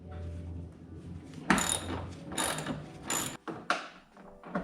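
A ratchet with a 12mm socket working bolts under a 2016 Subaru WRX STI, several short bursts of rapid clicking separated by pauses, close and fairly quiet, with no voices.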